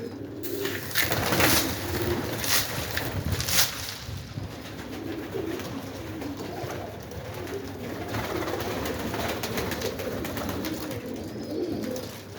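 A young pigeon coos in soft, throaty repeated phrases close by, with occasional rustling and flutter in the background.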